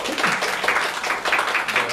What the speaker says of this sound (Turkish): Alkış oldu.